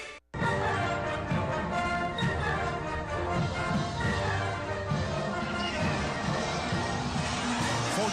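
Sellout crowd of over 70,000 at a Notre Dame football game in South Bend against Cincinnati, a dense, steady roar of cheering that fills the stadium throughout, distant and sustained.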